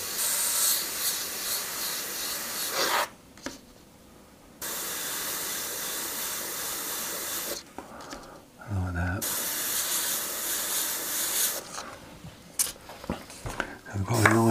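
An airbrush sprays paint freehand onto a metal-look graphic, giving long steady hisses broken by short silent pauses, with a voice speaking briefly in the gaps.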